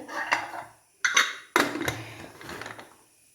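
A metal pressure cooker lid is set on and closed, with three clattering clanks of metal on metal followed by rattling and scraping, close and fairly loud in a quiet kitchen while pumpkin erissery is being cooked.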